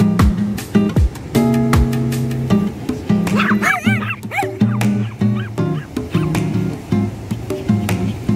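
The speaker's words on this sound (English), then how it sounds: "Beautiful dog." A dog barks and yips in short loud bursts, breaking into a few whimpering whines in the middle, heard close up with brief pauses between outbursts.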